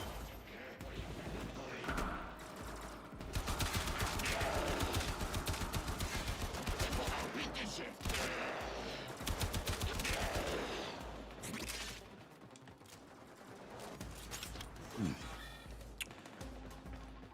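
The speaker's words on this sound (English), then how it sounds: "Stop shooting at me." Video game gunfire keeps up a dense, loud barrage of shots and booms with little letup, while a voice talks over the din.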